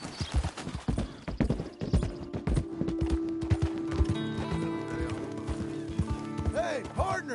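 Horse hooves clip-clop at a steady pace in Red Dead Redemption 2, sitting beneath in-game dialogue and a music score, with a brief whinny near the end.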